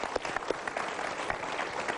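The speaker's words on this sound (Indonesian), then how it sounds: "Kita berikan tepuk tangan untuk pilihan Anda" A studio audience applauding, a dense, steady wash of many hands clapping at full strength throughout.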